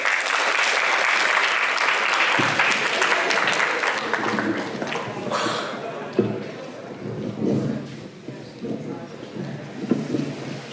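Audience applause at a shayari and poetry night, a broad sustained wash of clapping that holds steady, then thins and fades into scattered claps toward the end.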